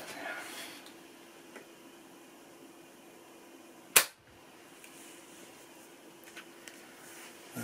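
A BSA Scorpion T-10 .22 PCP air rifle fired once through an AliExpress solvent trap, giving a single sharp crack in a quiet outdoor setting with faint background hiss.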